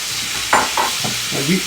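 Meat browning in a pan on a stove for shepherd's pie, a steady loud sizzle with a few scraping stirs of a utensil breaking through.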